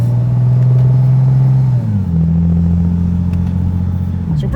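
2JZ-swapped GR86 with paddle shifters idling and downshifting, a loud steady engine drone that steps down in pitch twice as gears change, close and continuous.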